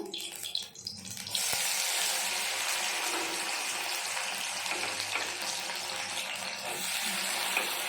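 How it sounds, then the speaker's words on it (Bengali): Okra sizzles in hot oil after being dropped in, a sudden rush of hissing that settles into a steady, fairly soft frying sound with no talk. "এবার ওই তেলে ঢ্যাঁড়সগুলো ছেড়ে দিচ্ছি ঢ্যাঁড়স ভাজার জন্য।"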